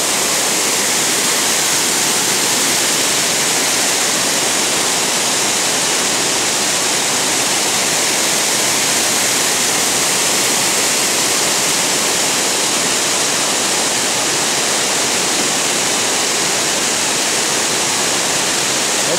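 A rushing waterfall heard from close by: a loud, unbroken roar of falling water that fills the whole clip steadily, with no variation and no voices.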